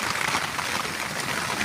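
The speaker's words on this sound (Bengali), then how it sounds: "এত বৃষ্টি।" Heavy rain pouring during an outdoor picnic, a dense steady hiss of falling drops, moderately loud and unbroken, with no talk.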